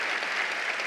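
Steady applause from an appreciative indoor crowd at a professional badminton match in the Tampines hub, a dense, even patter sustained throughout the short moment with no voices over it.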